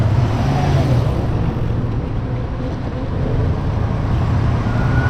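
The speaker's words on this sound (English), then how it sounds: "Busy, but slow traffic, just serious congestion." Slow, congested road traffic on a busy stretch along the Big Sur coast makes a steady, loud rumble of engines and tires with no breaks and no voices.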